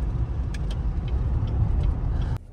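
A 2017 Chevy Tahoe fitted with an upgraded alternator drives along, a steady low road and engine rumble heard from inside with a few faint ticks, cutting off abruptly near the end.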